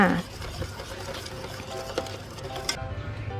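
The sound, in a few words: stirring mulberry sauce with lime juice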